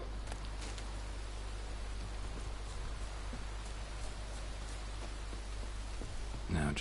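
Steady rain pours down in the Witcher 3 video game, a dense, even hiss that holds at the same level throughout with no voices over it.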